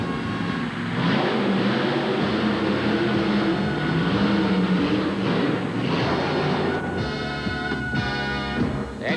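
A Chevrolet-powered monster truck with fuel problems revs loudly at a 1988 arena show in St. Paul, Minnesota, its engine surging and faltering in uneven bursts.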